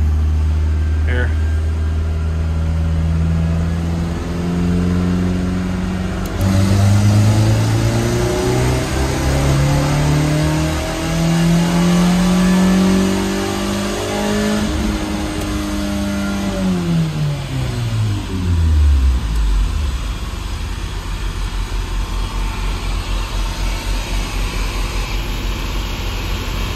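A car engine revs up to around 2,500 rpm from idle, its tone climbing and falling in long sweeps as it holds and is let back down, loud and close inside a shop.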